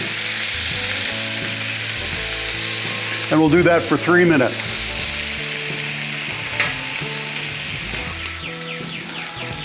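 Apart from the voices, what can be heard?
food sizzling on a hot griddle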